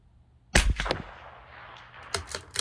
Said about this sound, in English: I'll shoot 5 more shots